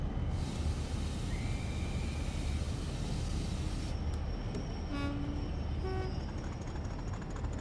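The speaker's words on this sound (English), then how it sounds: "Oh, someone's hooting." Inside a train pulled by a Class 45 diesel locomotive, the carriage rumbles steadily, then a horn sounds two short hoots about a second apart, clear above the running noise.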